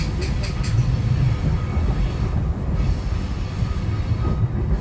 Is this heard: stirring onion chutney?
no